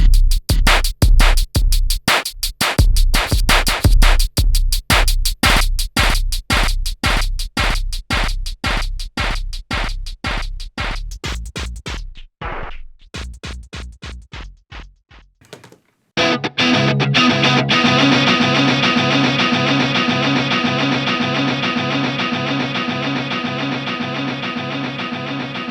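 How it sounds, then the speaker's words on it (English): Regenerating repeats from a Lexicon PCM42 digital delay with its limiter engaged, giving a tape-echo-like character: a rapid, evenly spaced train of loud distorted echoes breaks up, falls silent briefly, then swells into a dense sustained tone that slowly decays. "that limiter produces a regeneration that sounds much closer to a tape echo"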